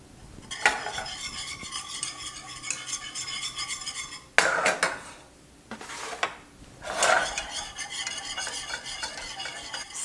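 A spatula scrapes around the sides of a pot of melted chocolate ganache, several close, scratchy strokes with short pauses between, against light metallic clinks.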